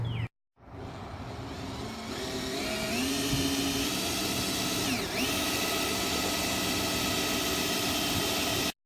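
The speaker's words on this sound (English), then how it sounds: "All right, let's get to drilling." A power drill whines steadily up close, its pitch dipping and rising as the hole saw bites in and cuts through the door of a 1996 Ford F-150.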